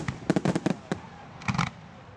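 Large fireworks at a Bonfire Night display in Stoke Park, Guildford, going off in a quick cluster of sharp booms and crackles, then a second burst after a short pause, heard outdoors from the crowd.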